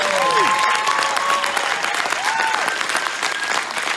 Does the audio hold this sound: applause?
yes